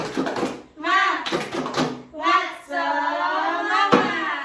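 Children in a fifth-grade classroom chant a rhythmic spirit cheer led by their teacher, loud voices with a few sharp hand claps punctuating the chant.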